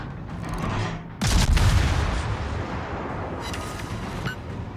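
The guns of the G Hoffman gunboat fire in a naval video game as a sudden loud volley that rolls on into a sustained rumbling blast, with sharper crackling shots following over the dense battle noise.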